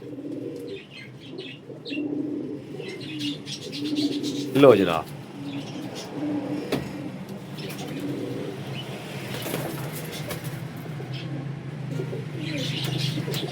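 Pigeons coo softly in low repeated phrases through the clip, with a brief flutter of wings near the middle, while someone talks over them; the birds are long-flying Punjabi parwazi racing pigeons, including a golden one.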